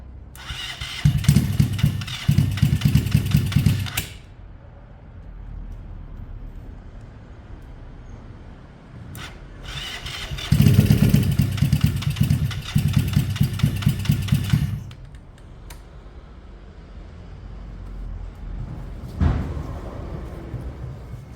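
A Yamaha Fazer motorcycle's starter cranks in several long bursts, each whirring and churning for a few seconds before cutting off, with short quiet gaps between attempts and a final brief crank; the engine never catches and runs.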